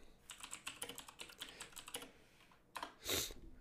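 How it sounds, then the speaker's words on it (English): Rapid, uneven clicking of keys on a computer keyboard, close by, with a brief louder clack near the end. "Sorry, I know you hear my keyboard."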